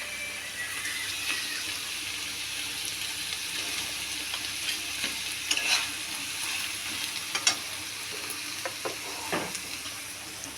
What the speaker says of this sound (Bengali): শাপলাটা দিয়ে দিয়েছি, আর এখানে ভেজে রাখা মাছের মাথা আমি দিয়ে দেবো।